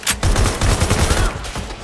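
A rapid volley of gunshots from a firefight in Watch Dogs: Legion, loud and close, with quick repeated cracks packed into under two seconds.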